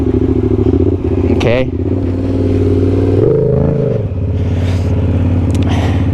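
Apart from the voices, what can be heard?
motorcycle engine idling during stand-up circle wheelie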